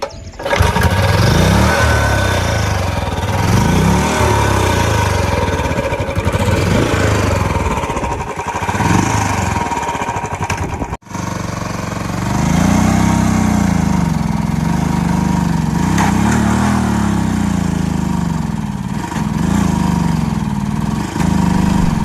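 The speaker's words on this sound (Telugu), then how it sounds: "ఇప్పుడు ఫైనల్గా మనం ఎన్ఫీల్డ్ అయితే ఈ ట్రాక్టర్ మీద ట్రై చేయబోతున్నాము" Royal Enfield motorcycle engine labouring to pull a tractor, a loud, rough, continuous thumping drone with a brief cut partway through, then a pulsing, straining rev.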